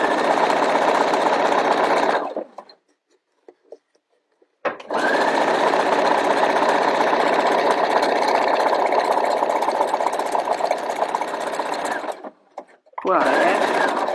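Domestic sewing machine stitching the hem of a T-shirt: a loud, steady whirring run, a short pause with small handling clicks, a long continuous stitch, and a brief final burst, close up.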